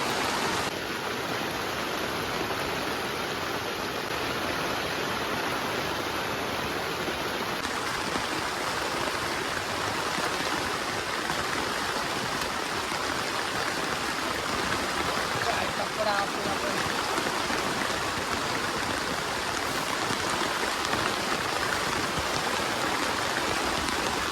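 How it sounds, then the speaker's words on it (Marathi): A steady, dense roar of heavy rain pours on a camping tent without pause, loud and constant throughout. "पाऊस जोरात चालू झाला"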